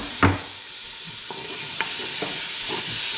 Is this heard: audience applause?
no